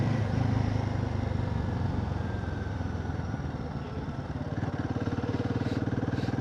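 A Himalayan 450 motorcycle rides along an empty road in the early morning, its engine a steady, loud, close rumble with a rhythmic pulsing throb and some wind noise throughout.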